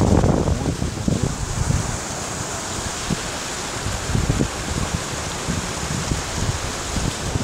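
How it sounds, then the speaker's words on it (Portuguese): Wind rushes over flowing river water at Rio Mucegezinho in Bahia's Chapada Diamantina, a loud steady roar with gusty rumbling buffets against the microphone and no voices. "Não sei se dá pra escutar aí por causa do vento, do barulho da água"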